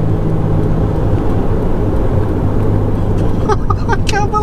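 Restored Alfa Romeo GTV driving on a fast road, needing a four-wheel alignment, its engine and road noise a steady loud drone throughout, with a few brief higher sounds near the end.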